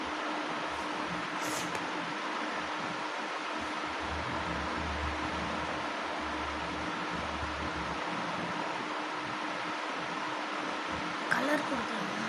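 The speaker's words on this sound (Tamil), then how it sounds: "இந்த ஃபேன் சவுண்டில் சரியாக நம்ம பேசுகிறது கேட்காது" Electric fan running indoors, a steady broadband whoosh of moving air that fills the whole stretch at a moderate level, with faint rustles and a brief click near the end.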